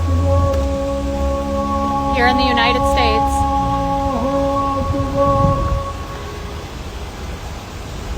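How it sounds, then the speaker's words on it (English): Islamic call to prayer broadcast over loudspeakers across a neighborhood in Dearborn, a sustained melodic chanted voice with held, wavering tones, carried loud and steady under someone talking nearby, fading out near the end amid outdoor noise. "This is the call of prayer that goes off 5 times a day"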